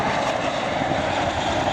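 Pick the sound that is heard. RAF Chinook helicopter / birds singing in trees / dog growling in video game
RAF Chinook helicopter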